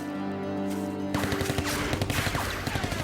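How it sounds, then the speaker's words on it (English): A steady low rumble gives way to bursts of rapid World War II gunfire from the trees, a loud rattling fusillade that keeps pounding in quick repeated volleys. "Suddenly, the trees come alive with gunfire, mowing down the men as they stumble and dive for cover."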